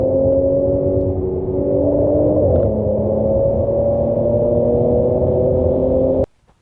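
Supercharged V6 Audi S4 engine pulling hard under acceleration on a test drive, a steady loud drone with rising tonal whine and rumble that cuts off abruptly near the end.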